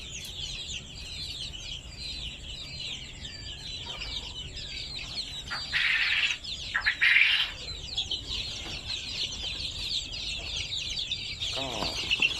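Guinea fowl chicks, white ones, peep continuously in a busy chorus, with a few louder bursts of chirping partway through; no talking.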